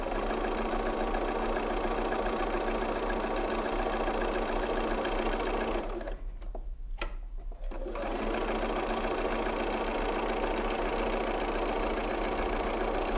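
A sewing machine stitching a quilt's half square triangle block, running fast and steadily with a dense mechanical whir, then stopping briefly for a short pause before starting again and running on alone.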